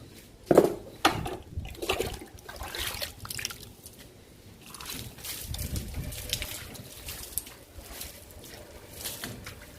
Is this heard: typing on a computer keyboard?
no